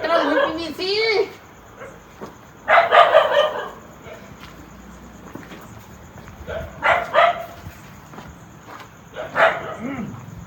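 A fierce dog barks in bursts of loud, harsh calls spread across the clip, with pauses between them and a low background hum.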